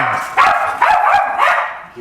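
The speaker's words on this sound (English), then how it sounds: "And welcome to Guinness, my dog, who's very excitable." An excitable dog barks in three loud, separate bursts close by, with a person's voice in the background between them.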